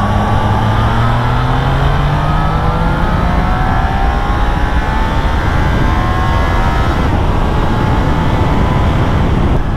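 A Triumph Trident motorcycle held in fourth gear, its engine loud and close as revs climb steadily through the gear on twisty roads, with continuous wind and road roar and no talk.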